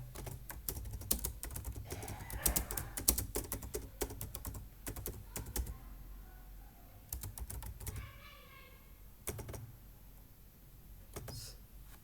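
Fast typing on a computer keyboard, bursts of close clicking keystrokes with short pauses between them, no voices.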